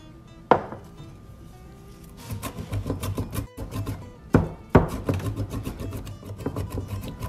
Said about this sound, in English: And we'll chop everything up, as well as this sun-dried tomato.